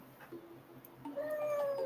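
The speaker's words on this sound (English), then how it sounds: "my cat's trying to walk across the keyboard" Cat meowing near a computer keyboard, a faint call early on followed by a longer, clearer drawn-out meow close by over a steady room hum.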